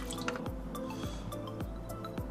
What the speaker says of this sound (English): I just dump water until it's below the metal thing.